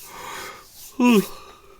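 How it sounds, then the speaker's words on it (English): A person yawns once, a brief voiced, drawn-out burst in the middle of the clip over a quiet room background. "Sorry, I got hit by a yawn in the middle of the video."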